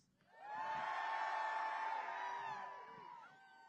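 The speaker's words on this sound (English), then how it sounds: "Cheer for me if you are from the Northeast." Protesters at a Washington, D.C. rally send up a sustained cheer, a swelling wall of shouts and whoops that peaks quickly, holds for a couple of seconds, then fades, heard at a moderate distance.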